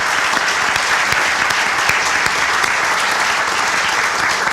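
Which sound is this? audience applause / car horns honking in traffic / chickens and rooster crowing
audience applause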